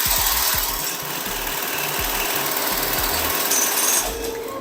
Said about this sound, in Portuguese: Baixei o calcador e costurei.